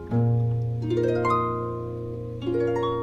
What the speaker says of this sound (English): That is the sound of a harp